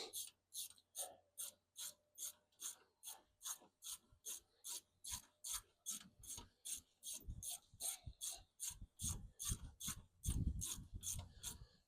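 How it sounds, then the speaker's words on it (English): A new lock nut is wrenched tight onto a shock absorber mount of a 1973 TVR 2500M with a ratchet, giving a long steady run of close, crisp clicks that grow heavier and more strained toward the end. "as I'm tightening this up, those 2 shock ears are coming together into alignment"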